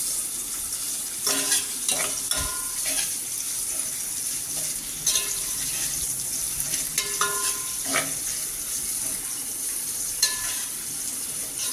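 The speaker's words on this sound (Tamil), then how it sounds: "இதை கொஞ்சம் வதக்கிக்கிட்டு கொஞ்சம் வதங்கின பிற்பாடு கருவேப்பில்லை போடுறோம்" Onions and curry leaves sauté in a pan for sambar with a steady, close sizzle. Frequent stirring scrapes and crackles break through it at irregular moments.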